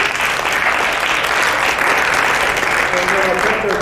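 A crowd claps steadily at a religious harmony event, a loud, continuous, even patter of many hands with no break from start to finish.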